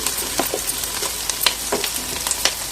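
Onions and green chillies frying in a pan, crackling with a bright hissing sizzle and scattered sharp pops, heard close and alone.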